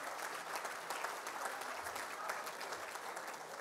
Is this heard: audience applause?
yes